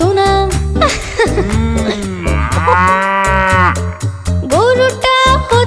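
A cow moos loudly several times in succession, long drawn-out bellowing calls with brief gaps between them, close and clear with no talking.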